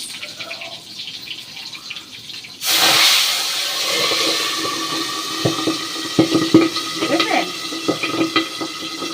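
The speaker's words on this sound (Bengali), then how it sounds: "আর পাবদা মাছ ফাটে প্রচণ্ড" Pabda fish hits hot oil with a sudden loud hiss partway through, then settles into a crackling, spattering fry with sharp pops, and a voice speaks briefly over it.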